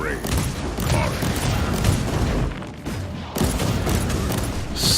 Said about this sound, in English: A little grenade in there.